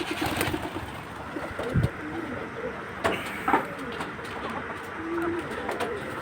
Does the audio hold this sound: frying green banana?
no